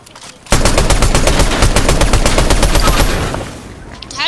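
Rapid automatic gunfire in a video game: a loud, close burst of evenly spaced shots rattles for about three seconds, then tapers off.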